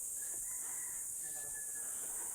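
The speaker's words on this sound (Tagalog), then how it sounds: "Oh, may manok eh." Faint chicken clucks and a drawn-out crowing call sound distantly beneath a steady loud hiss of background noise, near an abandoned-looking house by the Utod River and Falls.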